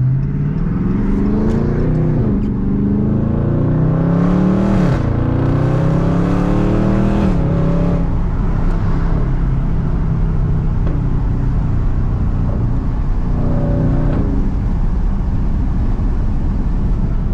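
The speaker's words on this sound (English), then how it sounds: "I'm listening to the sound of the car" A Dodge Charger Daytona 392 V8 drones loudly from inside the cabin while driving in second gear with paddle shifters. Its pitch climbs and falls through several rev sweeps, then settles into a steady, heavy rumble.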